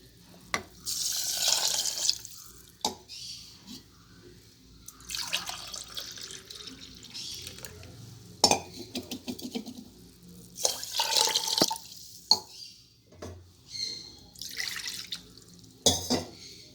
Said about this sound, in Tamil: இப்போ நம்ம கழுவி வச்சுருக்கிற அரிசியில் நாம் தண்ணி ஊற்றிக்கலாம்.